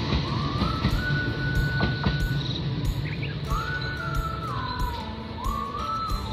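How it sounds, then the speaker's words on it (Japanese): Nankai Railway 31000 series Koya limited express train passing outdoors on the Koya Line amid nature, a steady broad rumble with a sustained whining tone rising and falling, insects and birds chirping in the background. "31000系の荒野が来ました。"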